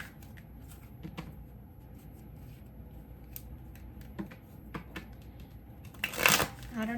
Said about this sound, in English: shuffle the decks anyway before I start using them.